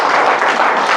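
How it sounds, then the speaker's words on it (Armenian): A church congregation applauds, a short, dense burst of clapping that stays loud and even for its full second. "եկեք ծափարենք Աստծուն նրանց համար"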